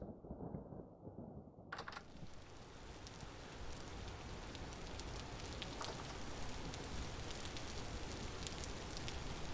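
Steady rain falls in the Vintage Story survival game, a dense, even hiss that starts up abruptly about two seconds in and then holds at a constant level to the end, with no talking.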